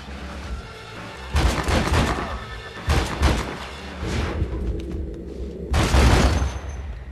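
Horses neigh and whinny loudly in Red Dead Redemption, several harsh bursts over a background of gunfire and rumble, with no talk.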